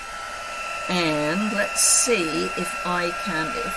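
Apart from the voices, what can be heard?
heat gun blowing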